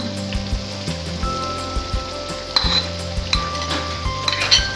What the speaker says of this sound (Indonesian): Masukkan daun bawang